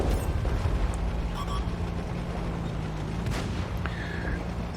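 Tank cannon fire in World of Tanks, a T54E2 in play, a steady dense roar of engine and battle noise with a few sharp shot transients, loud and continuous without talk.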